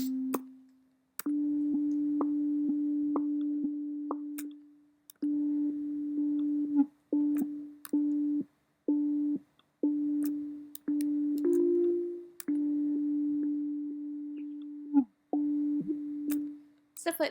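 Synthesizer tone from Ableton Operator with filter frequency modulation, a steady buzzing pitched note repeated in bursts of varying length with brief gaps and clicks, close and loud, resembling a call-incoming signal.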